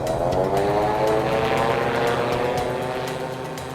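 A Groen gyroplane taking off, its rotor and propeller producing a loud, steady droning buzz with layered engine harmonics that holds strong before easing slightly toward the end, with no talking.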